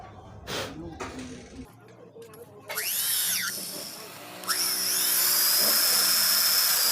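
A power drill with a 4.3 mm bit bores into hard, welded-over bolts, whining and rising in pitch as it bites, loud and close, with someone speaking over the early part.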